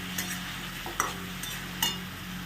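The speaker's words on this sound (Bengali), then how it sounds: "এবার এই মশলার সঙ্গে এটা কষাবো।" Fried potato and chickpeas are sautéed in a spice mix in a pan, with a soft sizzle under a few distinct scraping stirs of a spoon, quiet and close with no talking.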